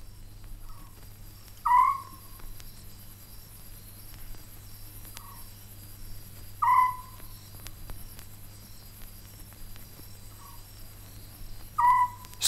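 A scops owl repeats a short, clear hoot about every five seconds in a night setting in southern Africa, set against a continuous bed of faint cricket chirping and a low background hum.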